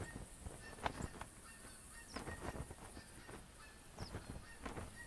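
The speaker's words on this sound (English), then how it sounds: "Oh, I can hear more geese. Is there another flock out there?" Geese honk faintly in the distance, a flock calling in scattered bursts over a quiet outdoor background during a hunt for geese and red deer.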